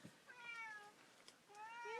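A house cat meows several times in a row, high wavering cries close by in a cluttered inherited home, with a soft voice speaking faintly in the background.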